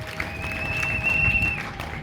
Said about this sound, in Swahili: On peut applaudir pour la parole de Dieu